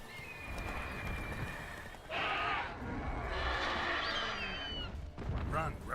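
Roach, the horse in The Witcher 3, with hoofbeats and a whinny over game sound, a few seconds of galloping movement and a loud burst of action partway through.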